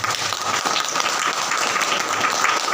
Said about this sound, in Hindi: एक बार जोरदार ताली बजाओ।